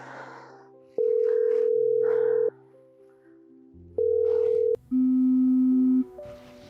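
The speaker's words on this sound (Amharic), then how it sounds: "ስልክሽን ለምን አታነሺው?" An unanswered phone call produces three long, loud ringback tones with short gaps between them, alone on a quiet line.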